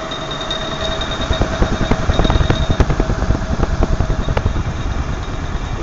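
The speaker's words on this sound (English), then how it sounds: "Vacuum is blowing into the Cyclone." A vacuum blower pushes air into a cyclone separator test rig, giving a loud, continuous motor drone with a fast rhythmic pulsing throughout.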